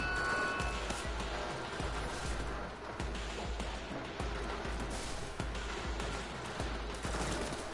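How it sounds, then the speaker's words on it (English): In a shooter video game, enemies fire a rapid, continuous volley at a wall, with repeated gunshot thumps in a steady rhythm under a dense action soundtrack. "See how they're shooting the wall instead of me?"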